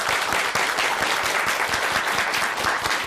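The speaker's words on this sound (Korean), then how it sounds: "박수 한번 쳐주십시오." A studio audience at a televised lecture by a professional wrestler applauds steadily, a dense, even wash of many hands clapping together for several seconds.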